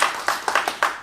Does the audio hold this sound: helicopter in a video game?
no